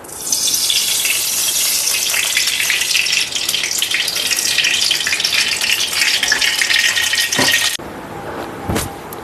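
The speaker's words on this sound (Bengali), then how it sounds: "এবার কড়াইতে তেল দেব" Mustard oil pours into a wok as a loud, continuous rushing hiss for about eight seconds, then cuts off abruptly, leaving faint room noise and a short clink.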